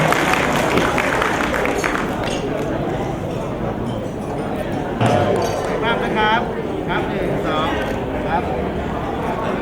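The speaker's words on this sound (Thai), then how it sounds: "ปรบมือให้ผู้ว่าชูสักดิ์นะครับ" Audience in a hall applauding a former district governor, Lion Chusak, at a memorial tribute ceremony; steady dense clapping fills the room while someone speaks over it.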